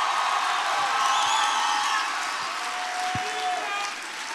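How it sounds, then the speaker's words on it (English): Church congregation at a worship service clapping, a busy wash of many hands with scattered whoops and cheers, fairly loud and steady, thinning a little near the end. "Can you clap your hands?"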